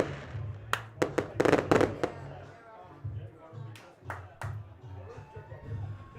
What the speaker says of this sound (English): there's the fireworks display for the Rocket win